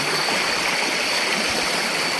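A stream flows at night in a steady, close, full rushing wash of water with no breaks and no voices.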